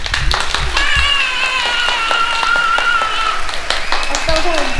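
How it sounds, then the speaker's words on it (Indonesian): Audience applauding after children's group performances at a cover-song show, steady clapping under a bright sustained musical melody, with a few louder claps near the start and end. "Tepuk tangan, tepuk tangan."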